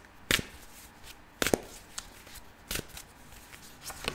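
A deck of tarot cards is shuffled in several crisp, sharp riffles spaced about a second apart, close and fairly quiet, with no talking.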